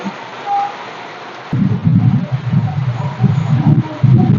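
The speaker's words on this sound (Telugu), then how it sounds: "ఉరుముతుంది" Thunder rumbles low and heavy during rain, starting partway through and rolling on in uneven swells that build toward the end.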